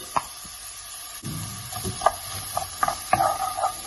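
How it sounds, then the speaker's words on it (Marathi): Chopped onions frying in hot oil while being stirred, with a steady sizzle and intermittent scraping clicks of a spoon against the pan, close and clear with no talk. "आनी मातशें गोल्डन ब्रावन करया ताका, मातशें भाजया पियाव."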